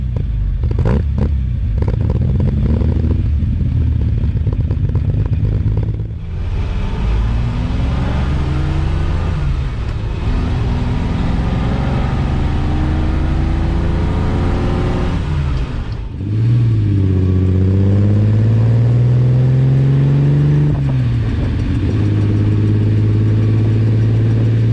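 A Ferrari 330 America's engine revving hard through several gear pulls during a ride, the rising whine dropping abruptly at each shift, loud and close with clattering mechanical noise.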